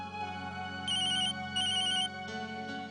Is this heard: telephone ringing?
yes